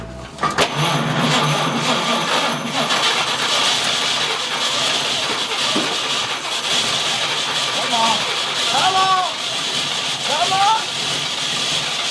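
A 1947 Chevrolet Fleetline engine runs with a steady, loud, hissing roar that stays constant throughout, while people talk over it nearby.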